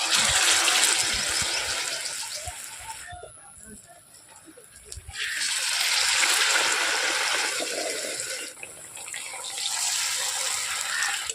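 A batter-dipped vegetable roll frying in hot oil, giving a loud, steady sizzle and crackle that dips briefly and then swells again.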